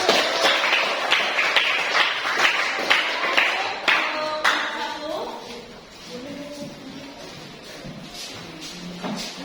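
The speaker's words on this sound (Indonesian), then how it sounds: "Oke, beri tepuk tangan dulu." A burst of hand clapping from a school class after a group presentation, dense and steady for several seconds, then thinning out with some talk and shuffling noise.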